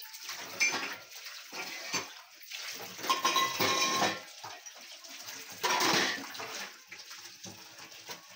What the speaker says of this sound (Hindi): मैं धो लेती हूँ बर्तन।